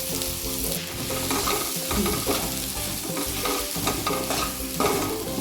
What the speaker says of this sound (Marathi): हा जो मसाल्याची पेस्ट केले ती सगळी या स्टेजला घालून परतून घेऊया